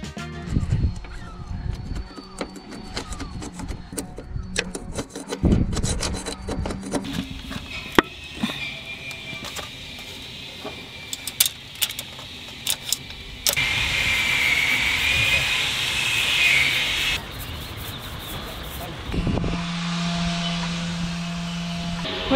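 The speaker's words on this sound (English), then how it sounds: "That's Zoe scabbling. My favourite noise." Harsh, irregular grinding and rattling of a scabbling tool chewing at a hard narrowboat roof outdoors, with bursts of scraping and occasional machine hum, fairly loud and close.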